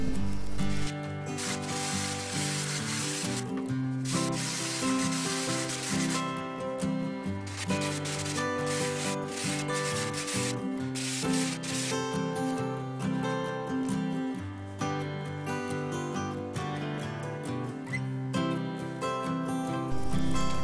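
Steady rough rubbing and scraping strokes of coarse sandpaper rounding the leading and trailing edges of a foam RC plane wing continue throughout, with music playing underneath.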